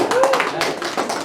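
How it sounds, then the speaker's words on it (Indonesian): A group in a classroom claps hands together in a short burst of mixed, overlapping claps, with voices chattering underneath. "tepuk tangan dulu dong"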